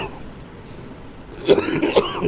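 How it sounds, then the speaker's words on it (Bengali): A short burst of coughing, two or three harsh hacks close to the microphone, following a quiet stretch. "সরি কাশি হয়েছে একটা"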